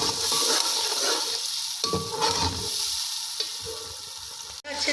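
Blended masala spices for yakhni pulao fry in a pan with a steady, close hiss and sizzle, and bits of stirring come through.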